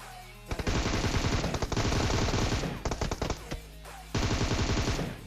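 Video game shootout gunfire: loud, rapid automatic bursts in three long volleys separated by short pauses, with no talking over the shooting.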